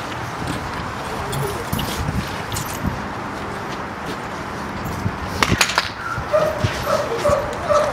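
Pit bull dogs yip and whimper amid a noisy yard that also holds roosters, short high cries clustered late in the stretch over a rough background bustle, with faint voices nearby.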